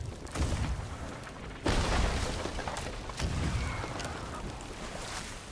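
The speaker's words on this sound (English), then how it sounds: "Two of them are shooting." Cannons firing in Sea of Thieves, three heavy booming shots spaced a second or so apart with rumbling tails, moderately loud.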